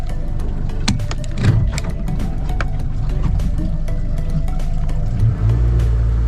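An outboard boat motor runs steadily on open water, a constant close engine drone with small knocks and splashes and no speech.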